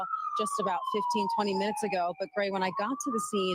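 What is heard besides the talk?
emergency vehicle sirens at plane crash scene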